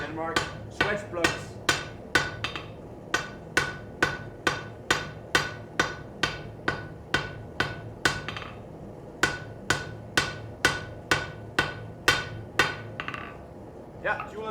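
Metal being hammered on a jeweler's anvil, a long series of sharp ringing strikes in a steady rhythm, close and clear, with short pauses between bursts.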